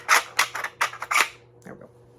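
A Nerf Battle Axe shotgun fires Dart Zone and Mega darts: five sharp, close pops in quick succession, followed by a softer mechanical click and rattle as the blaster is handled.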